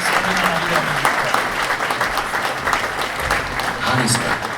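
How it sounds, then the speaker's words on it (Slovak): Audience applause at the Village of the Year award ceremony in Budmerice, steady dense clapping from a large hall crowd that continues for several seconds, with a voice speaking over it. "Gratulujeme, veľký potlesk."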